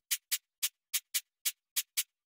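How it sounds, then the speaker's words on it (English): Crisp hi-hat hits with a ping-pong Fruity Delay echo in FL Studio, nine short bright ticks bouncing in an uneven rhythm, alone and fairly quiet. "there's like a little echo effect of the hi-hat."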